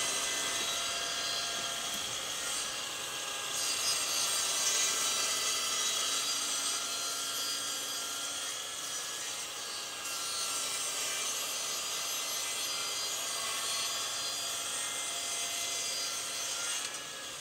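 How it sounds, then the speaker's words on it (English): A mitre saw set to 45 degrees slices through wood for mitre joints on a sofa C table, a steady, loud whining cut running almost unbroken throughout, with no talking. "I use my Trend digital angle finder to get my mitre saw down to 45 degrees to make the cuts."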